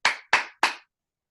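Three sharp hand claps ring out in an even, quick rhythm, close and clear, followed by silence.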